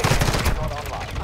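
Rapid bursts of gunfire from a gun in Call of Duty Warzone 2.0, a quick string of loud close shots in the first half, fading into a rumbling tail.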